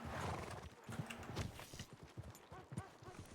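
Horse hooves clip-clop in an uneven rhythm up close, with a horse's whinny mixed in among the steps.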